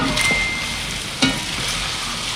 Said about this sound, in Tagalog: Kailangan ng haluin kasi puputok ito.